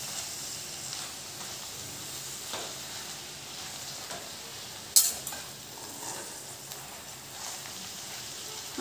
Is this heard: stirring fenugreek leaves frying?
yes